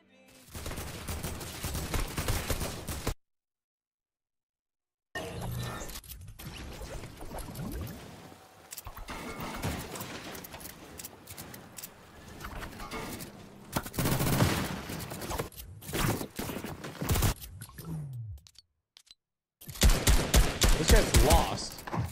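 Rapid bursts of automatic gunfire from a Fortnite battle royale match, dense crackling volleys broken by brief silent gaps, loud and close with occasional game effects mixed in.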